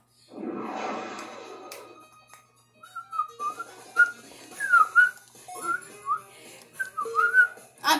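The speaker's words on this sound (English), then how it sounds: "I'm bad at whistling" A person whistles a series of short, wavering notes in a halting, uneven rhythm, close and moderately loud, after a brief burst of other noise at the start.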